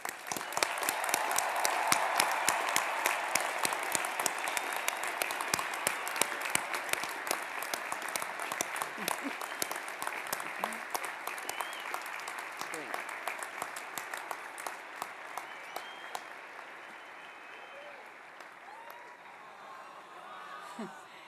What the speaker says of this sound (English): Join me, please, in a round of applause for all of today's graduates